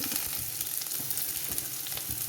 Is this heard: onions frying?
yes